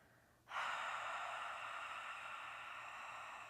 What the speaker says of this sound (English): Breathing out of the mouth like you're fogging an imaginary mirror in front of you.